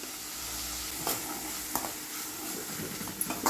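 Tomato and spice powder frying and being stirred in a pan for a chavalikayi palya, with a steady close sizzle and a few sharper scrapes of the spoon against the pan and no talking.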